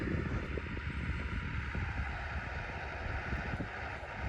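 A Lovol 1304 tractor cultivating a field gives a low, steady engine drone that continues without a break, heard from some distance and mixed with wind noise.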